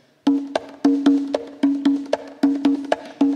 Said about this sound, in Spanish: Va a empezar a sonar el tambor.